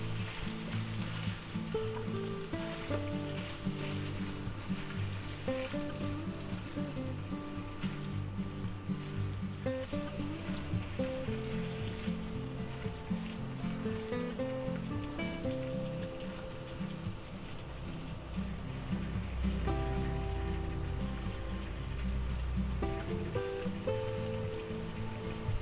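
Red and green peppers and onions sizzle steadily in a frying pan for a frittata, a continuous crackling hiss under faint clinks and scrapes as they are stirred around, with music playing underneath.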